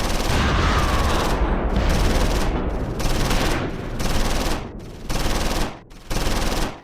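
Gunfire exchange in the World War II tactics game Close Combat 4, set in the Battle of the Bulge at Dasburg: repeated loud bursts of automatic fire separated by short gaps, dense and rattling throughout.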